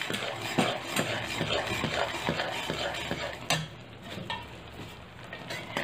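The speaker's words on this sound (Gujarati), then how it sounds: "આવી રીતે હલાવ્યા કરવાનું છે" A spoon stirs a thick jaggery and ghee mixture for a peanut sweet (shing pak) in a pan, giving steady scraping and soft scraping-sizzle textures, with a sharper clink partway through before it settles quieter.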